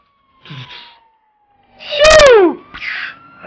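Police car siren in the video game GTA, a loud wailing tone that sweeps down in pitch after brief effects, with other game noises around it.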